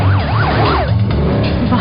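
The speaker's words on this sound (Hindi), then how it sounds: "सिर्फ एक कॉल करने से तुरंत एम्बुलेंस आ गई।" An ambulance siren wails loudly and close by, rising and falling in a fast, repeating sweep over the low rumble of traffic.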